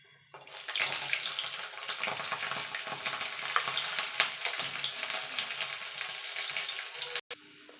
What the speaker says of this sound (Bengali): এই তেলেই রসুনটা ভেজে নেব